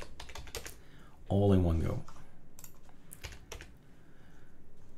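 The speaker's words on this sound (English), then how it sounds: "Right mouse control, I draw a line and I type key server." Quick bursts of typing on a computer keyboard during a Linux install, close and crisp clicking keystrokes in short runs, with someone talking briefly between them.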